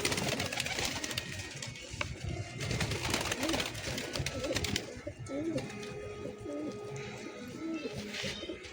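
Pigeons coo in low, rolling calls, repeated several times against a noisy rustling background, louder toward the end.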